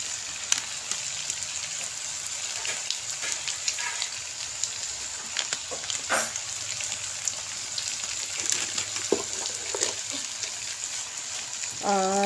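Ground spices sizzle and crackle in a hot pan, a steady hiss with scattered spits and pops running throughout, close up, with no one speaking.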